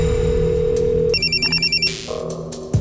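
A telephone rings in short, evenly pulsed electronic bursts, about seven quick beeps in a row after a steady tone, followed by a brief clatter as if the handset is picked up.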